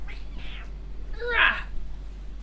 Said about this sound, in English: Oh, look at the boy kitty.